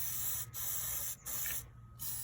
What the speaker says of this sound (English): You spray that on there and it just keeps it from corroding as fast.